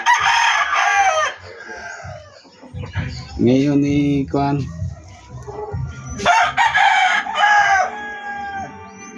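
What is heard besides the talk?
rooster crowing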